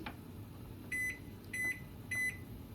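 A microwave oven keypad being set to a cook time gives three short, clear electronic beeps spaced about half a second apart, fairly quiet against a faint background hum in a home kitchen.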